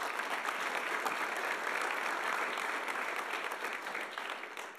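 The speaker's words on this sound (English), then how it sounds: "let's give everybody a round of applause to open this up" An audience at a college athlete of the year awards event claps steadily in a dense, even wash of applause that tapers slightly at the end, with no talk over it.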